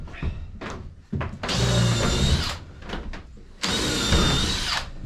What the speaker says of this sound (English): Just down there pre-drilling it all.